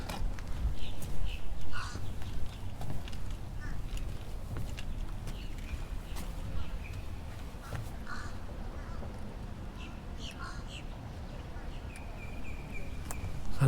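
Several birds call intermittently at a distance in Celebration, Florida, short chirps and caws scattered over a low outdoor rumble, with faint footsteps.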